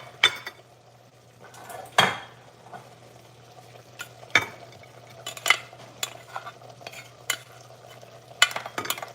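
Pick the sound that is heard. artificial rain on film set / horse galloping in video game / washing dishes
washing dishes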